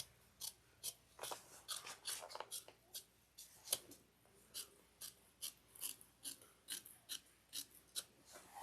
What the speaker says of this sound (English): Trim only the lining piece to 1/8 of an inch.